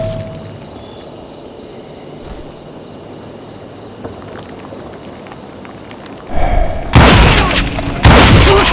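Gunfire in the Call of Juarez: Gunslinger video game bursts in suddenly after several seconds of quiet ambience, with loud, booming shots and heavy blasts crowding the final two seconds.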